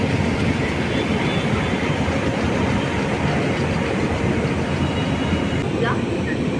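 A train passing on the Chennai Central to Bodinayakanur AC superfast express route, a steady loud rumble and rattle of railcars that stays constant and close throughout.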